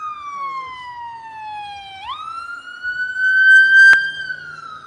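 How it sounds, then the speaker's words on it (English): A police siren wails loudly and close, its tone gliding down and then sweeping up into a sustained high pitch, with a brief sharp click near the end. "with these sirens, scientifically speaking, you know, things like that, they were literally created to raise certain levels in your brain of adrenaline"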